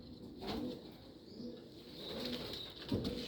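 Caged Jacobin pigeons coo softly in low, rounded, repeated phrases, faint and slightly distant, with a few higher chirps and light rustling in between.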